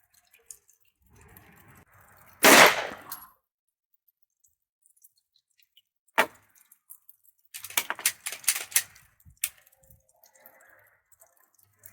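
Suppressed gunshots from a rifle firing 124 grain Summit City reloads while zeroing a red dot sight outdoors: one sharp muffled report, then a few more, spaced by quiet pauses with faint handling noises.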